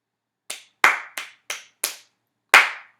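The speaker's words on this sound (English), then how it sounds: "Clap this next rhythm." Hands clap out a rhythm in a ukulele lesson, six sharp dry claps in an uneven pattern with short silent gaps between them, close and alone.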